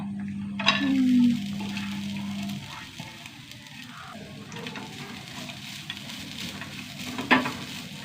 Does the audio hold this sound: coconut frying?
yes